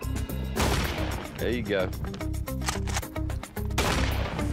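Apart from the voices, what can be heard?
pump shotgun firing at targets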